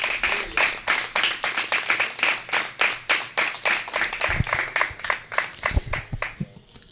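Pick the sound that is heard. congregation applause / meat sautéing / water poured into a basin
congregation applause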